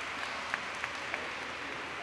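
Audience applause at the grand opening of the Exchange Park Recreation Center in DeKalb County, a steady wash of clapping with a few sharper individual claps standing out, moderately loud throughout.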